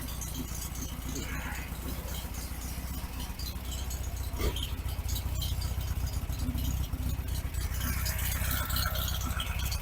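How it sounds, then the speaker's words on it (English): A 1974 VW Beetle engine idles with an uneven, lumpy rumble from its cam, and a light rattle runs steadily through it at close range. "It's a little lumpy because of the cam,"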